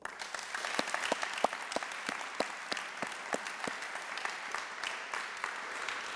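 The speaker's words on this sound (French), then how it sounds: "une bonne main d'applaudissements, s'il vous plaît" A school gathering audience gives a round of applause, steady moderate clapping with individual sharp claps standing out, continuous throughout.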